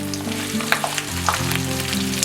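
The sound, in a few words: sautéing garlic, ginger and green chilli for prawn pickle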